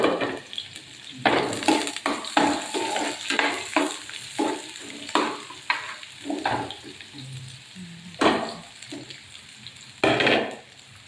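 Onion and garlic sauté in a pan for an ampalaya (bitter melon) ginisa, a spatula scraping and stirring in repeated close strokes over a steady sizzle, with no voices.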